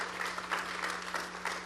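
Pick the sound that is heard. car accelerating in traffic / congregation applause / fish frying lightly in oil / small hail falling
congregation applause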